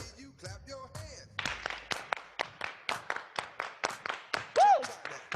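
Participants in a line dance class clap their hands in a regular rhythm, crisp claps roughly twice a second under music, with a voice talking and a short whoop near the start and another near the end.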